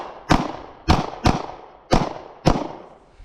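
Five sharp gunshots from a Taurus G2C pistol fitted with a Viper optic, fired in a quick, slightly uneven sequence, loud and close, each with a short decaying tail.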